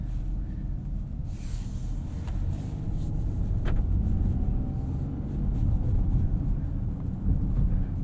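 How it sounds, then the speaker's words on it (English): A 2021 Ford Bronco Sport Big Bend cruises along a road, its steady low road and engine rumble continuous throughout with some wind buffeting, heard from inside the cabin. "let's take this thing for a drive and see what it's like on the road"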